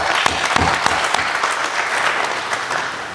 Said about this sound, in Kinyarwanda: Namwe mwiyongera amashyi